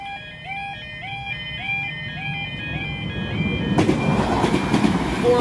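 A rail departure chime plays a repeating rising two-note pattern at Great Victoria Street station, Belfast, then a Northern Ireland Railways train's rumble and clatter swell loudly as it pulls away.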